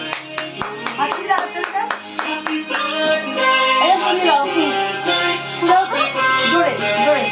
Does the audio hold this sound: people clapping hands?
yes